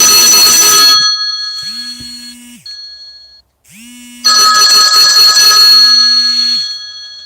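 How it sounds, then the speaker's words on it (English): Mobile phone ringtone going off loud and close, a bright electronic melody in two bursts separated by a short pause, with no voices over it. "yeah, that was my phone ringing."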